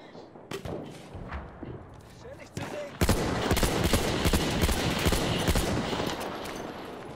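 Enemy machine gun fire in Battlefield 1 multiplayer, rapid bursts of gunfire that swell into dense, sustained shooting with a nearby voice talking over it.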